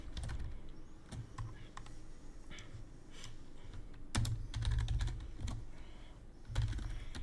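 Close computer keyboard typing in uneven bursts of crisp key clicks, with a few louder clusters of strikes and brief pauses between runs, no voices over it.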